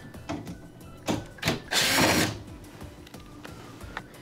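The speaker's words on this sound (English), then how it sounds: "Now that we've removed all 4 Phillips screws" A screw is backed out of oven trim on a Whirlpool oven, heard as short clicks and ratcheting bursts from a close driver, with one longer whirring run in the middle.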